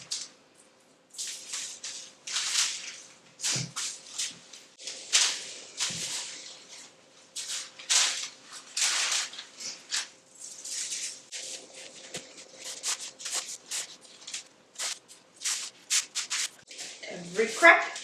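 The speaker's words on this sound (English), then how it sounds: "we're just going to start coating this down and rubbing it in" Hands rubbing a spice rub into a pork butt on parchment paper, producing irregular close scraping, patting and rustling strokes of varying loudness, alone without talk.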